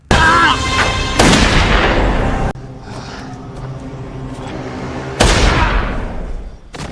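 Gunfire in an action movie fight scene, with two loud sharp blasts separated by a quieter stretch of rumbling background, ending with a final fading report.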